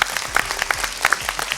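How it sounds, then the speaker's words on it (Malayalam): A burst of audience applause, brisk scattered clapping from a small crowd at a performance, short and fairly close. "അതൊരു വലിയ കൈയടി"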